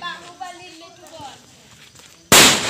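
A Diwali firecracker goes off in one sudden loud blast at the end after a stretch of quiet outdoor murmuring and footsteps, the bang close and harsh.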